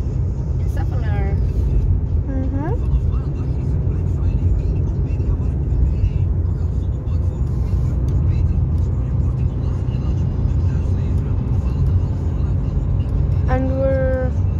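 Car ride along a street in Belgium, with steady engine and road rumble filling the cabin throughout and a few brief squeaky sounds on top; no one talks.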